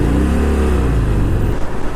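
A 2018 Harley-Davidson Fat Bob motorcycle engine braking on the road, a loud, close, deep V-twin rumble with a falling note that wavers as the revs drop.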